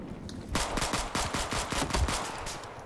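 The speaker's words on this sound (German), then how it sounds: "Hier schießt noch irgendwo einer." Rapid automatic gunfire in the video game Battlefield 4: a loud, close burst of about a dozen evenly spaced shots, with a fainter shot just before, no talking.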